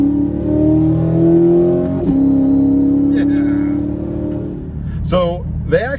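A powerful supercharged Chevrolet Corvette C8 engine roars steadily, its pitch dropping and rising through a downshift, with a sharp blip of revs near the end.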